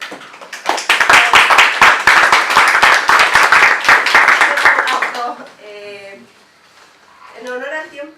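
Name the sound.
audience applause for Carlos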